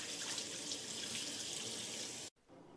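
Cornelian cherry seeds are rinsed in a colander under a running tap, a steady loud rush of water that cuts off abruptly near the end, leaving faint drips.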